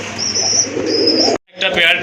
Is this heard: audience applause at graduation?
no